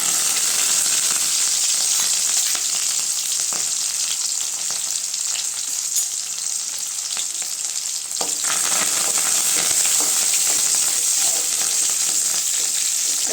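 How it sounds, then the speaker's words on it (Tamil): Onions and curry leaves saute in hot oil for eggplant poriyal, giving a loud, continuous, hissing sizzle up close with occasional faint stirring scrapes and no voices. "வெங்காயம் நல்லா வதங்கட்டுங்க"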